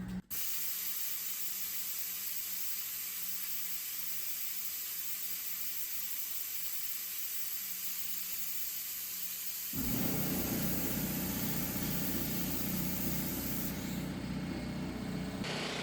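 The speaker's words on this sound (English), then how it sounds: "the compressor is right next to me, so it is what it is" An air compressor runs close by in a workshop during brake and fuel system work on a 1970 Triumph TR6. A steady hiss plays alone at first, then the motor kicks in partway through with a louder, fuller drone.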